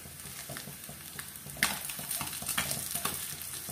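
Sardines crackle and sizzle as they fry in a pan over a slow flame, a steady close frying hiss that jumps louder midway, with stirring scrapes and pops and no talking.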